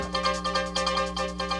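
A short electronic musical signal for a St. Louis television news station, with sustained tonal layers and rhythmic pulses, steady and fairly loud, with no voices.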